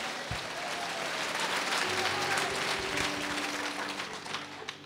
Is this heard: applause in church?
yes